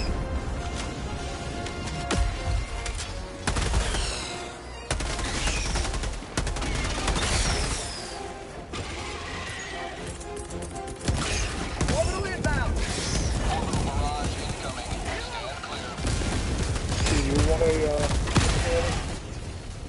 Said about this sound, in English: Calling in orbital strike!